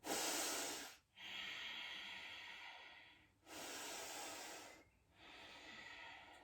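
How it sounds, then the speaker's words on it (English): Slow ujjayi breaths through the nose during a yoga flow, close and hissing, with three long breathy passages separated by brief pauses and no talk. "force yourself to keep breathing through the nose"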